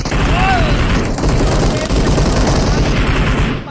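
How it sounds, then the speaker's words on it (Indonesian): Beryl rifle fire in PUBG Mobile during an online league final: dense, rapid automatic bursts, loud and continuous throughout, with a commentator talking over the shooting. "mendapatkan tembakan dari Beryl"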